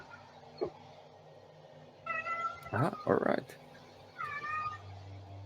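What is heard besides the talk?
cat meowing in the background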